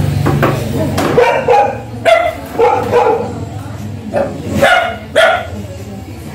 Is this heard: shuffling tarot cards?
no